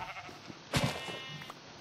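A sheep in the Minecraft video game gives a short, clear bleat midway, set against a low background of game sounds.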